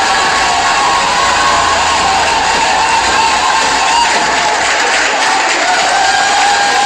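A large crowd at a political rally roars and cheers without letup, loud and dense, a continuous uproar of many voices with no single speaker standing out.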